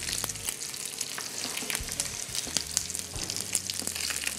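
Wine is poured into a pot of onions and sizzles hard and continuously, with crackling spatter and the scrape of stirring close by.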